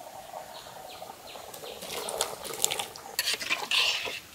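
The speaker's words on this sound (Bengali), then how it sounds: "কচুটা দিয়ে দিই।" Pieces of taro go into a cooking pot of layer chicken meat: soft splashing and scraping, then a few louder clatters and sizzling bursts toward the end, close by.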